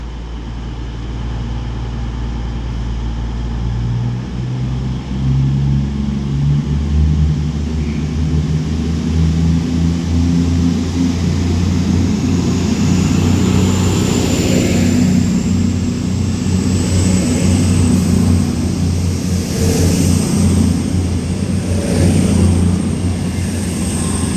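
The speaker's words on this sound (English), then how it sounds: "Departs Stoke-On-Trent now with the 11:49 cross-country service to Manchester" A Cross Country Voyager diesel train departs Stoke-on-Trent station, a loud steady engine rumble that builds and holds as it pulls away, heard close with no talk.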